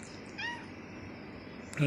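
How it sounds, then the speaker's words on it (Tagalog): A cat meows once, a short rising-falling call heard faintly over steady room noise, with a brief rustle at the end. "Ito yung pusa kong gwapo, tisoy."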